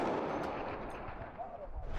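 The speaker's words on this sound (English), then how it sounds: "a couple rounds started to come in. They fired back" Gunfire crackles on a frontline against ISIS in Iraq, near the town of Garma, as a faint, distant spatter of shots under outdoor ambient noise.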